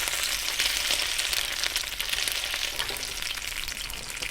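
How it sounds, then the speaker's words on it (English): Salmon cakes fry in a pan, flattened patties giving a loud, dense, continuous close sizzle and crackle without pause, and no voices. "And we're gonna let these cook for 3 minutes on each side."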